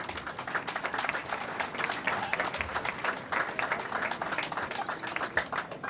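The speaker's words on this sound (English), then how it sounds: "so give them a round of applause." At a high school athletic awards event, an audience applauds record-holding swim relay members, a dense, even wash of clapping from a room full of people.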